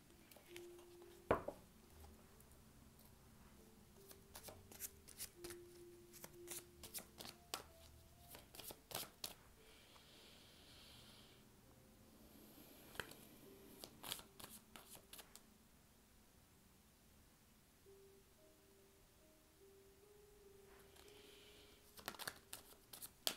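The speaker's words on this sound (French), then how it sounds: "je vais prendre le temps de tirer vos 6 cartes" Tarot cards are shuffled and drawn in soft, quiet bursts of riffling and flicking, with small taps and papery sounds spread over a long, otherwise hushed stretch.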